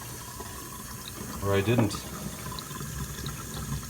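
Water runs in a clogged kitchen sink, a steady close wash of flow with a brief louder gurgle midway, and someone speaks briefly over it.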